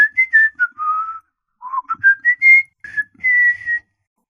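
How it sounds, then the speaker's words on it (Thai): A person whistles a short lively tune, two quick phrases of bright chirpy notes separated by a brief pause, close and clear with no talking. "ค่อยผิวเป็น ฟังเบิ่งเด้อ"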